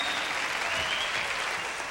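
Studio audience applause on a musical game show, a steady, moderately loud hiss of many hands clapping together throughout, with no break and no voices standing out.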